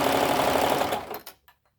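A sewing machine stitches a tube dress in a rapid, even mechanical whir, close and steady, then slows and stops with a few faint clicks.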